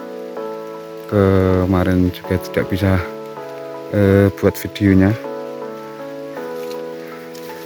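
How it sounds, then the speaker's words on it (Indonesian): Steady rain falls on a mountain hiking trail on Mount Lawu via Candi Cetho, a constant hiss that continues beneath someone talking nearby in two short bursts. "karena ini sudah mulai hujan"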